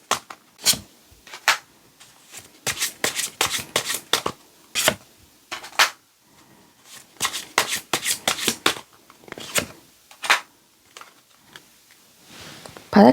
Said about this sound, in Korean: 지금부터는 추가 카드를 뽑아보도록 할게요.